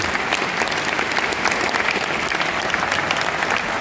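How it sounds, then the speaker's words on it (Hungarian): Audience at a charity boxing event in Hungary gives a big round of applause for a champion, a steady, dense burst of many hands clapping that fills the whole clip at even loudness. "Hadd kérek tőletek egy óriási tapsot a legnagyobb bajnoknak!"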